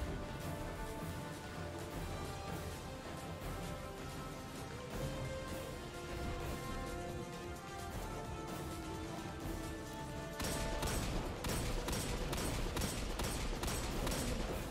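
Enemy weapon fire in Destiny 2, a dense continuous stream of rapid shots with a steady rhythm over busy game ambience, growing louder and sharper in the final seconds.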